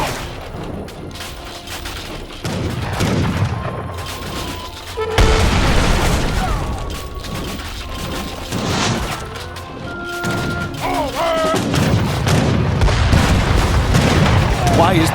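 Bombard cannons fire in Age of Empires 3 Definitive Edition: several deep booms and crashing impacts roll across a busy battle din, with horn-like music tones and game effects layered over them.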